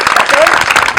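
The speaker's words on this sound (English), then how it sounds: "give a big round of applause to the NJCTS staff" Audience applause for the NJCTS staff at the NJCTS Walk, a dense, steady wash of clapping filling the short moment, with voices mixed in underneath.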